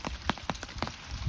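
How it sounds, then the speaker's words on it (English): Rain drips off the edge of a thatched cottage roof in the English countryside on a windy winter day, a few soft, irregular drops falling close by over a steady background wash. "I love the way the raindrops come off"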